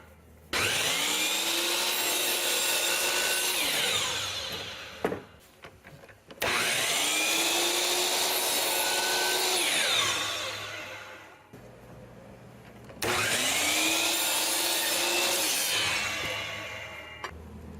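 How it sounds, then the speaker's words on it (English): A power saw makes three long cuts through new wooden window stool trim, each a loud, steady whine that spins up and then winds down, separated by short pauses. "So we'll just make that same cut"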